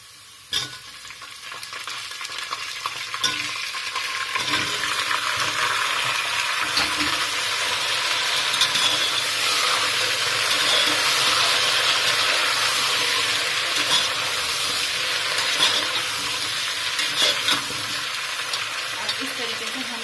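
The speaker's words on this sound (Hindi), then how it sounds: "अब इस तरीके से हम इसको 5 से 6 मिनट तक ऐसे ही भूनेंगे तेल में" Potato pieces fry in hot oil with a South Indian tadka seasoned with asafoetida, producing a loud, continuous crackling sizzle that lasts throughout, with occasional faint knocks of stirring underneath.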